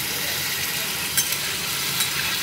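Masala spice paste frying in a pan, giving a steady, even, hissing sizzle throughout, with a couple of faint clicks.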